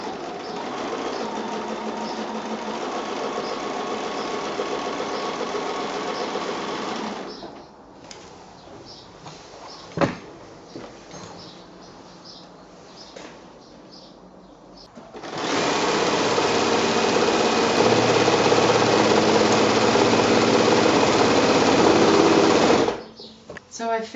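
A sewing machine quilts a woodland patchwork quilt in two long, steady, loud runs separated by a quieter pause.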